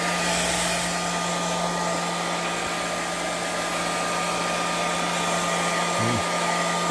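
A hair dryer blows steadily on alcohol inks, a loud, constant whooshing hum with a low motor drone that runs unbroken from start to finish, with no talking.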